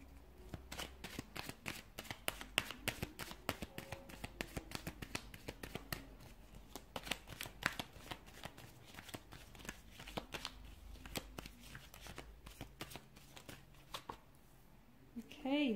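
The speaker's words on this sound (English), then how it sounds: "give the cards a shuffle" A deck of tarot cards is shuffled up close, giving rapid, quiet clusters of papery flicks and riffles in an uneven rhythm.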